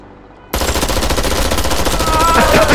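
Rapid machine-gun fire in Worms W.M.D bursts in abruptly after a quiet moment and keeps rattling loud and continuous to the end, with a rising whistle toward the finish.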